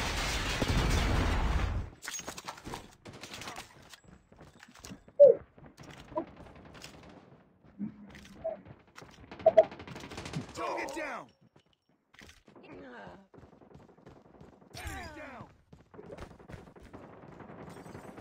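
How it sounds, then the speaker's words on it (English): Gunfire and explosive blasts from a Call of Duty Mobile match, with a heavy burst at the start followed by scattered shots, booms and a Predator missile strike, mixed with in-game announcer voice lines. "Predator missile inbound."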